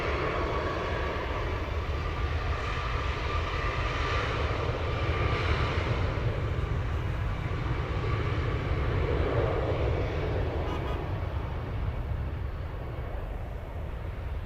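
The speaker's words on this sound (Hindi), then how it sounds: "तो A320s थे ये, यूनाइटेड एयरलाइंस और फ्रंटियर के।" Airbus A320 airliners of United Airlines and Frontier taking off from San Francisco Airport, heard from a bayshore park beside the runways: a steady, loud jet engine roar with deep rumble lasting throughout, no talking.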